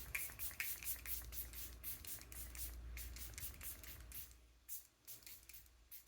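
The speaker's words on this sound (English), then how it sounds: "This is the Sheglam Press Refresh Setting Spray." Sheglam Press Refresh setting spray, a makeup mist, is pumped in a rapid series of short sharp hisses close by, about a dozen spritzes in quick rhythm before it stops, with no one speaking.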